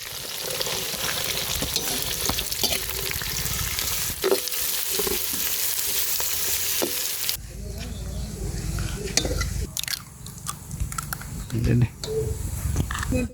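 Fennel seeds, curry leaves, green chilli and onion frying in a hot pan, a loud continuous sizzle with stirring scrapes throughout, which grows softer and more uneven partway as ingredients are added, while a voice talks.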